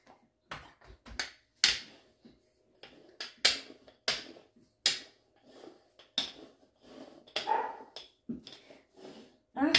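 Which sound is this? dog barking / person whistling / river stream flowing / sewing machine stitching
dog barking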